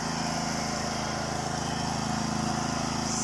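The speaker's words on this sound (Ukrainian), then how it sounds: "Світу немає. Генератор працює." A generator runs during a power outage after a storm, giving a continuous, close, steady engine drone with no pauses.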